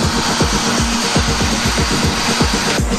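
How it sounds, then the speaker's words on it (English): Steady loud whine of a router bit cutting a dovetail socket in wood, with a regular rhythmic pulsing throughout. "Then cut a dovetail socket in the mating piece."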